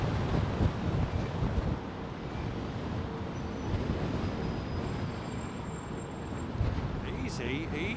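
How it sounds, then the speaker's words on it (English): Strong wind of about 20 miles per hour blows steadily across the microphone at London Heathrow Airport, a continuous loud broadband rush with gusty swells and no clear talk. "I'm allergic to having 20-mile-an-hour winds permanently, constantly blowing in my face all day long."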